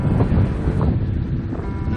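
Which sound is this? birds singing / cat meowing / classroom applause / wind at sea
wind at sea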